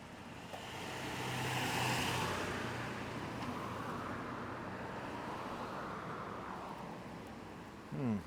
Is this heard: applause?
no